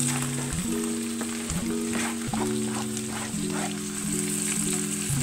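Chopped onion, sweet pepper, thyme and garlic sizzle steadily in a hot pot, a continuous close frying hiss with a steady tonal hum running underneath.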